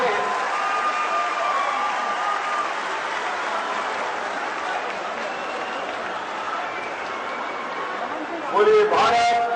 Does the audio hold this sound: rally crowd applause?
yes